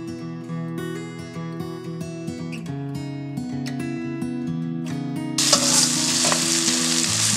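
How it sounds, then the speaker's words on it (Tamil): Tomatoes for a country chicken curry are sautéed over a raised flame. Melodic music plays for most of the stretch, then a loud, dense sizzle rises near the end and carries on under it. "தக்காளி நல்லா கரையிற அளவுக்கு வதக்கிக்கோங்க"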